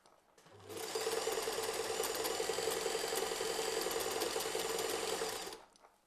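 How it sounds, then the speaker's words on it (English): A sewing machine stitches the armhole of a dress in one continuous run of about five seconds, a close, steady mechanical whirr with a fast rattling pulse that ramps up and then stops, with no talk. "Just sewing the armhole now."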